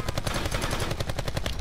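Rapid automatic gunfire from Call of Duty Black Ops 4, a dense, loud burst of evenly spaced shots that runs unbroken through the whole moment, with no voices over it.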